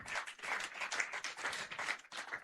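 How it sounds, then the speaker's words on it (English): Audience at an International Women's Day event claps steadily, a dense fairly faint patter of many hands lasting a couple of seconds with no speech. "Let's keep the applause coming."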